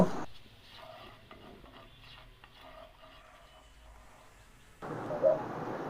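Spiced boiled chickpeas being stirred in a wok, a soft scraping and rustling with a faint sizzle, growing louder toward the end.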